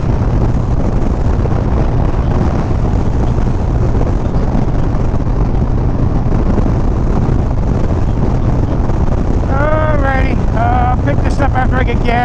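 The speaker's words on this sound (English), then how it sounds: "It is really windy." Strong wind blows across a gas stop in Kansas, a continuous loud roar and buffeting that fills the whole stretch, with a short tonal whine rising near the end.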